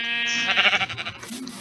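A single sheep bleats in Minecraft, a loud close wavering baa that lasts about a second and is heard alone.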